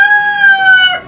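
A single loud, drawn-out tonal call from a bird in a homemade brooder holding chickens, Jersey Giants and guinea fowl, close and clear, ending in a short rough break.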